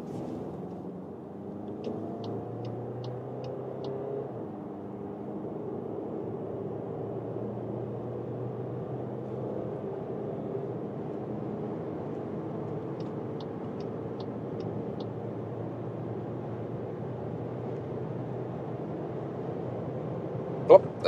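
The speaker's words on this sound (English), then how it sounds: "So this is here the 2-liter TDI for the all-new Volkswagen Tiguan." A Volkswagen Tiguan R-Line with the 2-liter TDI (193 horsepower) and DSG dual-clutch automatic cruises on the German Autobahn in sport mode at about 160 km/h, producing a steady low cabin drone beneath someone talking.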